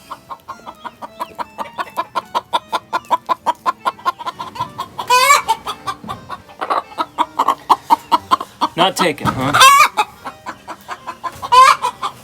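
A broody hen clucks in a steady, rapid rhythm close by while chicks peep at intervals, and a person speaks briefly.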